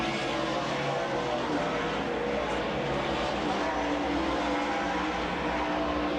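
Pack of racing trucks at the 1995 Subway 100 roaring around a racetrack, a dense, continuous engine drone held at steady loudness throughout with no break.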